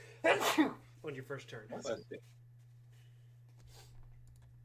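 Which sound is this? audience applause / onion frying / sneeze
sneeze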